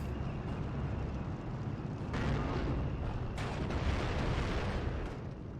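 Artillery fire and explosions in the Steel Division 2 war game, heard as a steady low rumble of battle with heavier blasts swelling in partway through, moderately loud and without talk.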